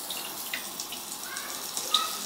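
Water sprays steadily from a toilet bidet sprayer being repaired, a close hissing rush with small spattering bursts throughout.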